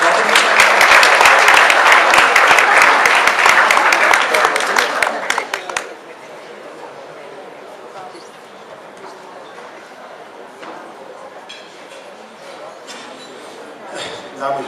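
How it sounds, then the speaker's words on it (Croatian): Audience applause at a donor dinner for the Zagreb medical faculty, loud dense clapping for about six seconds that cuts off, leaving quiet room tone with faint murmurs. "Jedan aplauz za profesora Batinića."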